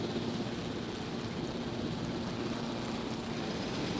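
A helicopter in the video game Jurassic World Evolution gives a steady, unbroken rotor and engine drone that stays at even loudness from start to finish, with no talk over it.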